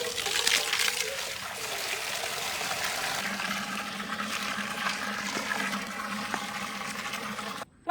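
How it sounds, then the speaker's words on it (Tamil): Water pours and trickles steadily into a pot while a whole goat is roasted outdoors, a continuous splashing flow heard close and fairly quiet, cutting off abruptly at the end. "தண்ணி விடுங்கக்கா."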